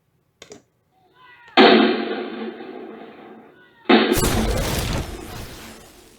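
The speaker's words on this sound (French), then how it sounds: "Les canons lancent une salve de boulets, mais aucun ne touche le bateau pirate" A ship's cannons fire a salvo at a pirate ship: a brief pop, then two loud broadband blasts a couple of seconds apart, each ringing on, the second sharper and noisier, in an animated sea-battle scene.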